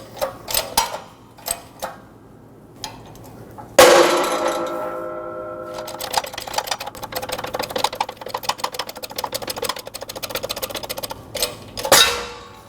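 Repeated metallic clanks and knocks as an old wheel bearing is pressed out of a Fiat 500 steering knuckle, with a sharp bang near the start and a grinding, rattling press sound that follows, close and loud.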